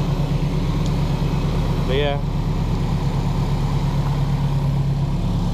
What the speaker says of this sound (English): the engine would like shake, like it would idle, shake, idle, shake